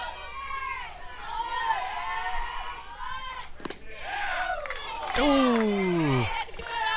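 A youth baseball team bench at an 11U regional tournament game, cheering with loud overlapping shouts and chants from many young voices. The crowd noise is steady and rises into a sustained yell near the end.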